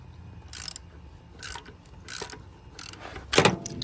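A socket wrench ratcheting a 1/2 inch pipe plug on a Triumph TR7, five short close bursts of clicking at a steady rhythm, with quiet gaps between them.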